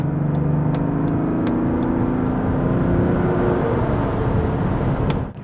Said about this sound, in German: wie kraftvoll, schön, kernig dieses rein Sechszylinder-Triebwerk klingt